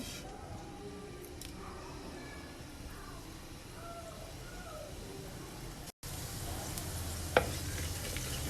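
Cumin seeds frying in a few tablespoons of hot oil in a pan give a soft, steady sizzle with faint stirring, quiet throughout and growing slightly louder after a short cut.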